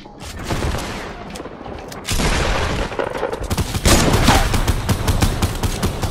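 Rapid bursts of gunfire in the Fortnite battle royale video game, with loud, dense volleys of shots firing continuously and growing louder toward the end, with no talking.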